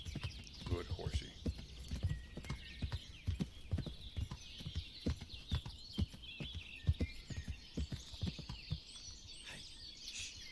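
A horse clip-clops at a steady walk in Kingdom Come: Deliverance, a quiet, regular run of hoof beats throughout, with faint birdsong above.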